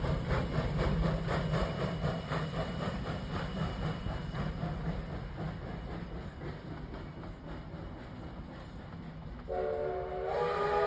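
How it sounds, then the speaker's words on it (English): A Virginia and Truckee Railroad steam locomotive with two leading wheels and eight drive wheels, passing near Gold Hill station. It chuffs in a steady rhythm with rolling rail noise, then sounds a clear whistle near the end, with no speech. "This locomotive, it's got two leading wheels up in the front and eight drive wheels."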